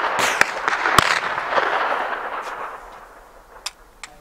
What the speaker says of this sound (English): So we'll pop a few BB pellets